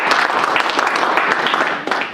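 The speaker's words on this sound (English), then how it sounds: "give them a big round of applause" Audience applause at a wrestling press conference for the 2018 Beast of the East, a dense, steady wash of clapping lasting about two seconds with a brief dip near the end.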